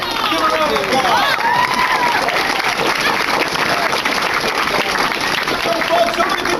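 A convention panel crowd applauds loudly and continuously, clapping mixed with scattered cheers and chatter from the audience.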